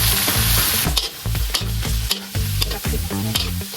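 Pancit canton vegetables with oyster sauce stir-fried in a pan, with a loud, steady sizzle broken by repeated scraping, clanking strokes of a utensil tossing the noodles, close and continuous with no talking.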